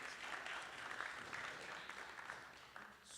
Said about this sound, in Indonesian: tepuk tangan yang paling meriah buat Tuhan yang luar biasa